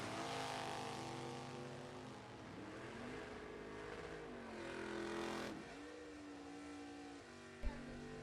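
Drag racing cars at a bracket race, a Roadster and a Monza, roar in a steady, sustained engine drone with rising and falling revs, loud and fairly close, ending with a brief sharp thump.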